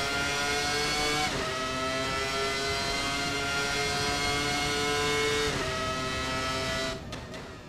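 Williams FW19 Formula One car in the racing sim Assetto Corsa, its engine holding a loud, steady high-pitched whine with sharp gear-change dips near the start and middle before easing off at the end.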